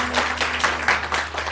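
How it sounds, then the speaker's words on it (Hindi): Studio audience applause on a Pakistani morning talk show, a short burst of loose clapping over a steady low hum, fairly close and moderately loud. "आप लोग तालियां बजा सकते हैं।"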